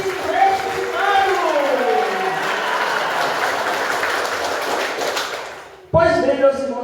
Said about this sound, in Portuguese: dê uma salva de palmas bem forte